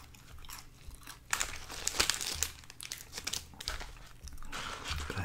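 McDonald's Happy Meal paper packaging crinkles and rustles up close in irregular bursts, loud crackling handling with quieter gaps between, heard alone without talk.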